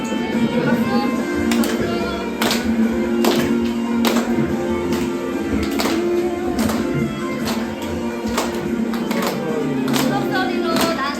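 Children clap in a steady beat, about one clap per second, during an elementary-school worship service at a church. The claps ring out over ongoing music and singing.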